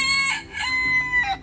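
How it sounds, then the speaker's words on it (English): Chickens cluck and a rooster crows in a few close, repeated bursts, loud and clear with no talking over them. "Those are in fact chickens."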